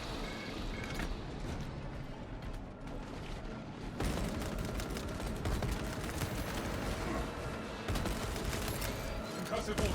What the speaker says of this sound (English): Concussive ordnance released.